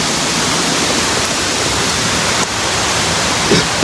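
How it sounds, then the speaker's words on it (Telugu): A roaring waterfall, the sixth in a chain of falls reached by a rough forest trail near Seethampeta, pours in a steady, dense, close-up rush from start to end with no pauses. "ఇదైతే 6వ వాటర్ ఫాల్స్ అండి"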